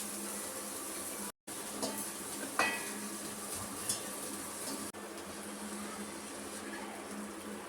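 Onion sautéing in a pan while cooking shevga (drumstick) curry: a steady low sizzle with occasional stirring scrapes and light clinks, fairly quiet and continuous throughout.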